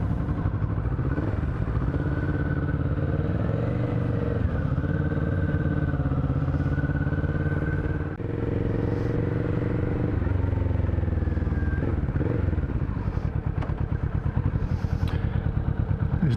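Motorcycle riding through Bangkok traffic, its engine droning steadily and close throughout with rising and falling revs, plus occasional clatter and thumps from the road.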